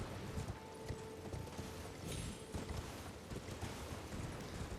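Horse hooves trotting across open ground in Elden Ring, a soft steady clip-clop running under a dense wash of game ambience and music, fairly quiet throughout.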